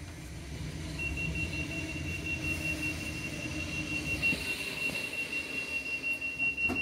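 A South Western Railway Class 458 unrefurbished electric train runs steadily on a ten-car service, with continuous rumbling wheel and motor noise and a thin sustained whine throughout.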